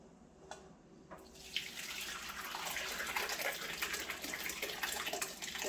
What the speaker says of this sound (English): pour a lot of the liquid off.